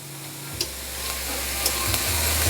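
A cube of citrusy dill seasoning melts in a hot pan with steady hissing sizzle, a couple of soft taps, and a low hum underneath, with no talking.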